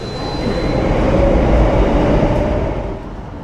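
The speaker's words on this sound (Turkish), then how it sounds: "Şöyle metro geldi." A Singapore metro train pulls into a station with a loud, steady rumble that swells and then eases slightly as it slows.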